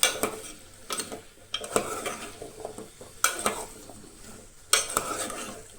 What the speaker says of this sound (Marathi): हे सगळे तुमकां तेलान बरे अशें मातशें तळसळून घेवंक जाय।